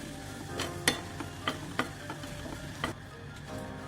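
Gram flour being stirred with spinach in a nonstick pan: soft steady frying sizzle under repeated scraping clicks of a spoon against the pan, several taps spaced irregularly, close and moderately quiet.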